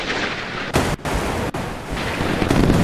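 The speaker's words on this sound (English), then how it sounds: "A mixture of laid gunfire, radar laid gunfire, and guided weapons" Naval guns fire in the Sea Power game during a fleet battle, a dense continuous roar of gunfire and blasts with a few abrupt breaks and loud bursts.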